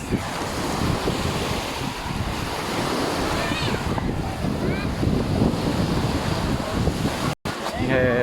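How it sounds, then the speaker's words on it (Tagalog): Strong wind buffets the microphone with a constant rushing roar, near the sea at Agno, Pangasinan, with faint voices and brief squeaks in the background. "Sarap ng hangin dito."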